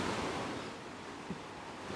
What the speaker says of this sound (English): crashy waves